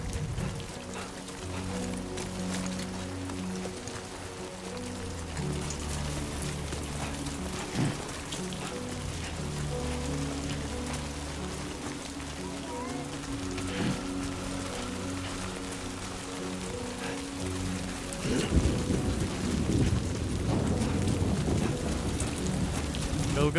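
Steady timefall rain pours across rough terrain in Death Stranding 2, a continuous hiss with low rumbling tones underneath and a heavier surge near the end, with speech briefly over it.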